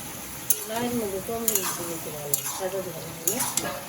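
Vegetable curry sizzles in a pan as turmeric is added, with several sharp scrapes from a stirring spoon and a voice talking over the cooking throughout.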